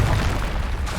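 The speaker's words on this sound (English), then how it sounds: "Confringo!" A Confringo blasting spell explodes in the Hogwarts Legacy video game, a loud, dense low boom that rumbles steadily through the whole second without letting up.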